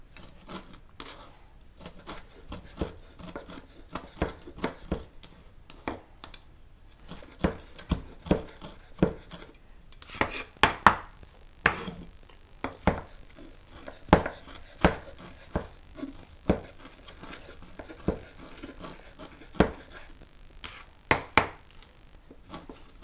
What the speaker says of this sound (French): je découpe le persil et je recommence l'opération en faisant tourner plusieurs fois